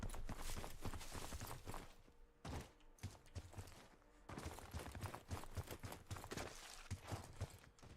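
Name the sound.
footsteps echoing in the video game Warzone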